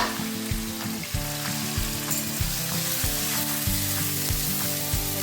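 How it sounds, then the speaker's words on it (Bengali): Five-spice seeds, dried red chilli, garlic and chopped onion sizzling in hot oil for rajma, a steady close hiss with rhythmic stirring knocks and a low hum underneath, no speech. "5 ফোড়ন দিলাম, শুকনো লঙ্কা, রসুন আর পেঁয়াজ কুচি,"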